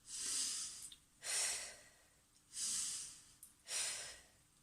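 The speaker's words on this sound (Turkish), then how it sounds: "Şimdi hep beraber birlikte burnumuzdan nefes alıyoruz ve ağzımızdan veriyoruz." Four slow, audible breaths in a breathing exercise, each an airy inhale followed by a longer exhale, evenly spaced and close with quiet gaps between.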